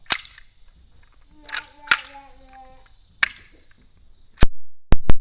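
Blank rounds fired from a WW2 Russian rifle by an infantry squad outdoors at a fort: sharp, loud cracks, one every second or so, ending in a close burst of several quick shots, with brief voices in between.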